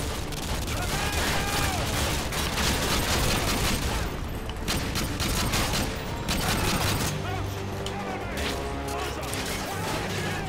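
Gunfire from an FAL rifle with a red dot sight in Call of Duty: Modern Warfare, dense repeated shots and clatter throughout, loud and continuous, with a voice partly mixed in.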